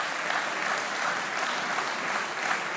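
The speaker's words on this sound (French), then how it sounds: "Vous entendez le Sénat qui applaudit à tout rompre." The French Senate in session erupts in loud, sustained applause, a dense and even wash of clapping from many hands throughout.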